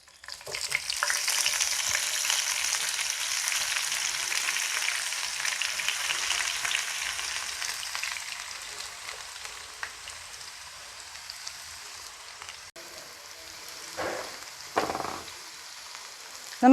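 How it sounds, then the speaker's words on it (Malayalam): Finely chopped onion hits hot oil in a home kitchen and sizzles hard at first, settling into a steady frying hiss, with a few stirring scrapes near the end. "ഈ എണ്ണയിലേക്ക് തന്നെ ഒരു സവോള ചെറുതാക്കി അരിഞ്ഞു വെച്ചിട്ടുണ്ട് നമുക്ക് അതൊന്ന് ഇട്ട് കൊടുക്കാം"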